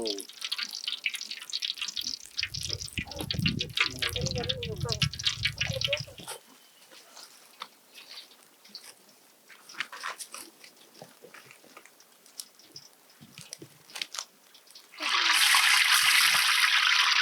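Mushrooms go into hot cold-pressed groundnut oil, setting off a loud, steady sizzle for the last couple of seconds, after a stretch of kitchen handling noise and talk.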